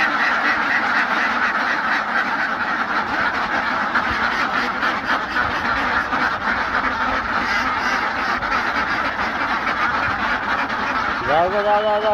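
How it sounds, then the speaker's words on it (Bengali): A flock of ducks on a village farm on a foggy winter morning quacks loudly and continuously in a dense, nearby chorus, with a person's voice speaking over them toward the end. "হাঁসগুলো আমাকে ডাকতেছে"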